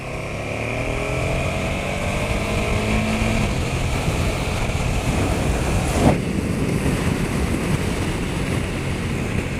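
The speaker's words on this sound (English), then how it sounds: "So let's see what second gear acceleration is like." A KTM 1290 Super Duke GT (2020) accelerating hard in second gear, a loud continuous engine drone with rising tones and strong wind rush, heard from the rider's position without pause.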